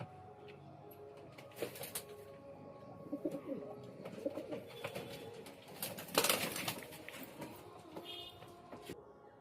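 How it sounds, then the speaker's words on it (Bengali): A pigeon kept at a home loft coos softly in bursts, with faint wing rustles and household background noise, with no talk. "পায়রাটা আপনাদের দেখাচ্ছি, দেখুন স্ট্যান্ডিংটা দেখুন পায়রা।"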